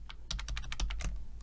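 Quick keyboard shortcut typed on a computer keyboard: around a dozen crisp key clicks in rapid succession, close and clear over a low hum.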